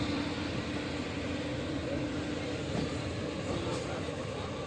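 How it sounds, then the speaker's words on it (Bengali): A passenger train rolls into Banaras railway station in the early morning, a steady loud rumble of wheels and carriage noise filling the whole stretch with no clear breaks. "আমরা এখন বানারস স্টেশনে ঢুকছি"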